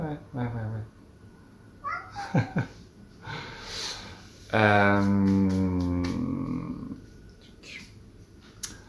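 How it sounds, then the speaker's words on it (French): A pet cat meows nearby in a few short calls, then gives one long, loud, drawn-out yowl, with a person talking around it. "je vais faire sortir mon chat parce que sinon, monsieur va miauler jusqu'à sortir"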